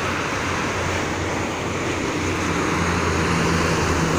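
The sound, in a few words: strong wind beside the Jakarta–Cikampek toll road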